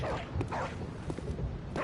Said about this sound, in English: look at the dog barking at this door